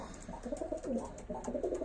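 Broad-tailed fighting pigeons in a loft coo in quick soft overlapping phrases, close by, with no talk.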